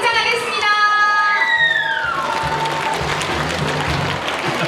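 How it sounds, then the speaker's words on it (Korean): A crowd welcomes children onto the stage at a Buyeo, Chungnam history and culture city vision ceremony: a voice sounds at first, then loud, sustained applause with cheering swells and carries on. "큰 박수와 환호로 맞아주시길 바랍니다."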